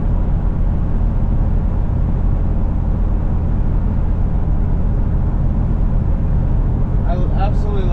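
Bullnose Ford F150 truck engine running steadily under light throttle, a continuous low rumble with broad road and cabin noise filling the clip, some faint higher tones appearing near the end.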